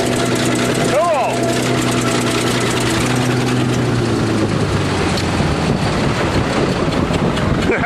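A bulldozer's diesel engine runs loud and steady while crushing a Buick Regal and an Oldsmobile on a farm, with a quick rev sweeping up and back near the start before it settles into a rough, rumbling idle.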